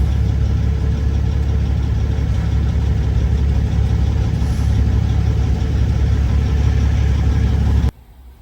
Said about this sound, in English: And I just heard that truck fire up.